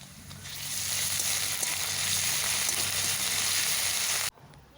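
Ginger garlic paste frying in a pan after chopped onions, giving a loud, close, steady hiss and sizzle that swells in and holds evenly before cutting off abruptly near the end.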